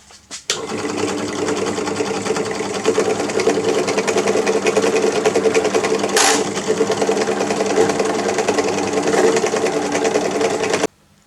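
A bushing for a chopping board tray on a Hilux build, spun up on a machine while its edge is filed into a bevel: a loud, steady mechanical whir with a rapid chattering texture that runs nearly eleven seconds, then cuts off abruptly.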